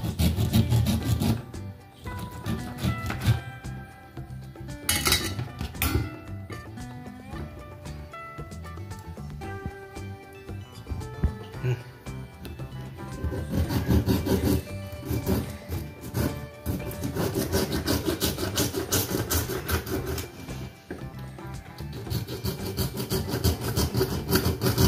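Gurjali fish being cut into pieces, with steady scraping, rasping and chopping knife sounds that carry on close by for the whole stretch, along with a few sharper knocks against the board.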